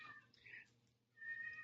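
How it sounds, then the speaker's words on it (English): A cat meows a few times up close, two short calls and then a longer drawn-out one, fairly quiet against a low background hum. "that's a cat you're hearing"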